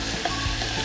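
Beans sautéing in a pan, a dense, continuous close sizzle with no pauses, loud and alone.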